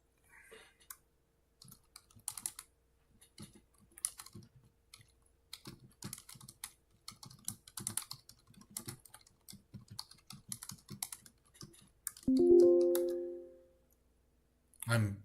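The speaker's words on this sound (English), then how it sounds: "I'm right now typing in the chat for Roll20" Quick, uneven computer keyboard typing clatters close by for most of the stretch, entering text into a Roll20 chat during a Dungeon Crawl Classics spell duel livestream; a short hum-like vocal sound near the end, then a final thump.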